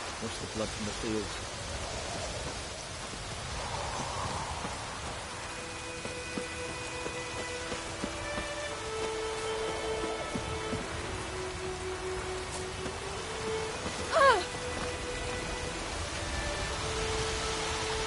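Steady rain falls in the video game Witcher 3: Wild Hunt, a soft continuous hiss of drops with faint ambient game tones underneath and a brief sharper sound near the end.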